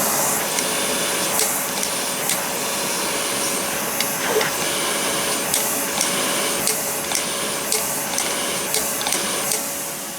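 A Vacmaster Beast 5 gallon shop vacuum runs loud and steady with a strong whooshing airflow roar and hiss, with brief clicks and bumps over the continuous drone.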